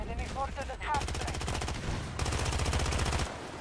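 Rapid bursts of secondary weapon fire in the video game Battlefield 2042, two long steady strings of fast shots separated by a short pause, loud and close, with a brief voice heard at the start.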